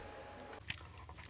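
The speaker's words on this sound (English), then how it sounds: "chewing some of my dried fruit" Someone chewing dried fruit in a kitchen, a few soft moist bites and a brief crunch close to the mic, with no talk.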